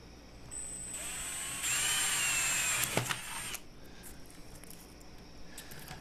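Drill boring through a homemade fishing planer board near the foam, a close high whine lasting a few seconds with a sharp rising burst at the end, then quieter handling noise.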